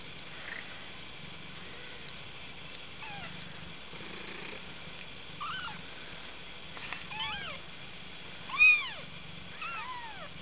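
Foster kittens mew in thin, high, repeated calls, a handful of short cries scattered across the stretch with one louder meow near the end, over a quiet indoor background.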